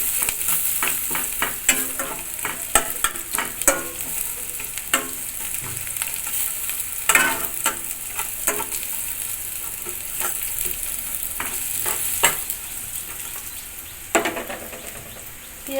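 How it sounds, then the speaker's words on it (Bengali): Onions fry in oil in a pan, cooked until reddish for a Bengali katla fish kalia, with a steady bright sizzle and frequent close clinks and scrapes of stirring throughout. "পেঁয়াজটা লাল লাল করে ভেজে নেব।"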